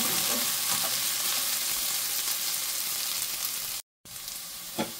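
Chicken soup vegetables frying in a pot, stirred now and then, a continuous close sizzle with occasional soft scrapes, broken by a brief silent gap near the end, no talking.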